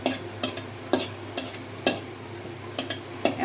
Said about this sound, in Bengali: এই দেখেন ফ্রাই হয়ে আসছে শুকনো মরিচটা